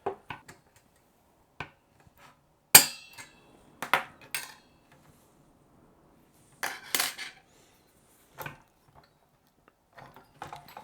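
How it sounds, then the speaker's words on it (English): Sparse metallic clicks and small clatters come as the X clamp is taken off an Xbox 360 S console, isolated and close in a quiet room. "So let's go ahead and take off the X clamp first."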